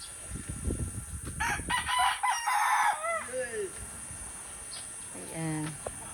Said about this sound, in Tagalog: Ayan ang aking mga manok guys.